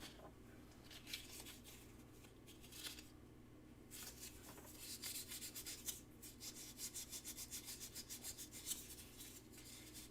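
Sandpaper rubbing back and forth, quiet and close, in irregular strokes at first that settle into a fast, even rhythm of short scratchy passes toward the end, with no talking.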